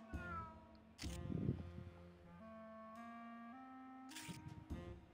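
Cats meowing and caterwauling in the video game Grim Fandango, drawn-out tonal yowls rising and bending, close and clear, interrupted by short clicking noises.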